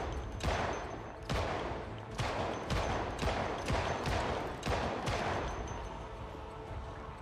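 Pistol shots in the zombie survival game Project Zomboid, about seven sharp reports fired at a steady, fairly quick pace, loud and close, each leaving a short decaying tail, with no talk over them.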